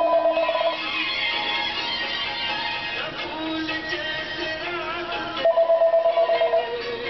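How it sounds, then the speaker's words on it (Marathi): A telephone rings in a home office room, its electronic tone sounding in short pulses at the start and again near the end, steady and moderately loud with no talking. "फोन वाजतो आहे."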